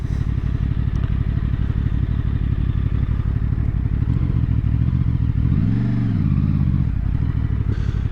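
A QJ SRV600 V4 four-cylinder custom motorcycle rumbles steadily up close as it pulls away in first gear, with a low throbbing engine note and a brief rise in revs partway through, no talk.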